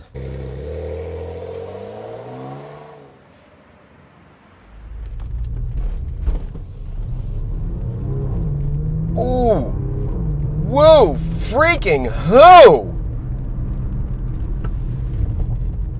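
A 2015 Porsche Macan engine surging on takeoff, rising through a few sharp revving climbs with a deep rumble beneath, while excited voices exclaim over it.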